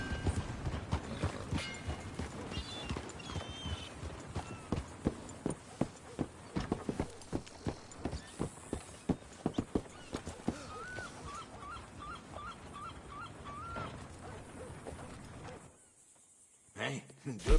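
Rhythmic clip-clop of horse hooves on hard ground in a PS4 video game, steady and close, with a light melodic chime midway before the sound drops away near the end.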